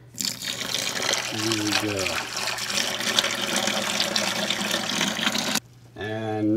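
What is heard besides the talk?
pouring hot boiling water from a kettle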